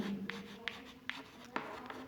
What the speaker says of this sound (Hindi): तो ऐसा लिखेंगे।